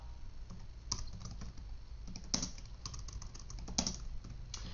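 Keys tapped on a computer keyboard while entering a Linux touch command, a close, quiet run of irregular clicks with a few firmer strikes, no voices.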